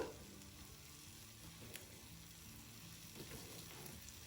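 Coriander seeds, cumin and dry red chillies frying in a little hot oil in a pan over medium flame for an okra masala, a faint steady sizzle with a couple of soft stirring scrapes.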